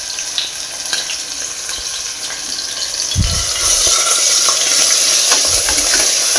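Ginger garlic paste fries in a pan for a methi matar pulao, a close steady sizzle with stirring scrapes that grows slightly louder midway.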